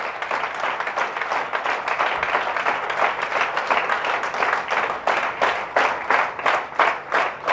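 A training-seminar audience claps for themselves in sustained, fairly loud applause, dense at first and then breaking into a more rhythmic, unison beat toward the end.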